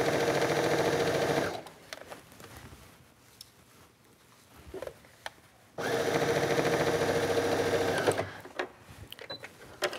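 A sewing machine stitches a cuff onto a fabric sleeve in two steady, close, whirring runs, separated by a pause with light handling clicks and rustle.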